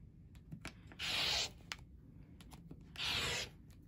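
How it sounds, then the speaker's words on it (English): A rotary cutter slices fabric strips along a large quilting ruler, making two short, close scraping swipes about two seconds apart with faint handling taps around them. "I'm just going to cut every square."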